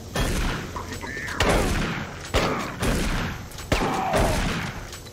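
Gunfire in the video game Doom 3 on PS4, with a sustained, dense barrage of loud shots and several heavier booming hits over about five seconds.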